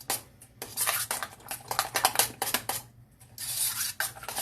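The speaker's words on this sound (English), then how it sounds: "Then we shall stir that" A spoon stirs potatoes au gratin in a metal pot, with repeated scraping and clinking strokes in an uneven rhythm, close and fairly loud, pausing briefly before resuming.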